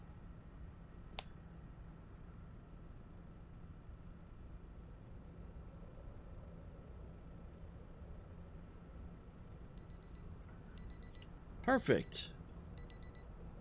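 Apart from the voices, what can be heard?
alarm clock ringing in video game Project Zomboid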